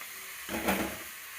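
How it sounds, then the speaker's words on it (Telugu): Fresh drumstick leaves dry-roasting in a hot kadai with no oil give off a soft, brief rush of sizzle and hiss that swells and fades. "కళాయి అనేది వేడైన తర్వాత మనం ముందుగా కోసుకున్నటువంటి ఈ యొక్క మునగాకుని దీంట్లో వేసి కొద్దిసేపు వేగనిద్దామండి"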